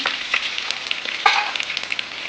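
Mustard seeds and three or four garlic cloves sizzle in hot oil while tempering horse gram saaru, a steady close crackle dotted with sharp pops and spits, with no talking.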